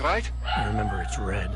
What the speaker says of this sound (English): Sorry about my dogs being annoying.